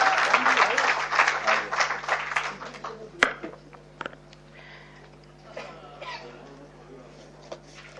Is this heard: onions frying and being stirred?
no